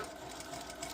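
A sewing machine stitching a bucket hat seam at 3/8 inch allowance, its steady fast needle whir running close and unbroken for the whole second.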